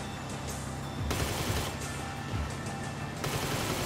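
Gunfire rips out in GTA Online as shots hit a car's tires, two bursts of rapid crackling shots with a sustained rattling barrage between them.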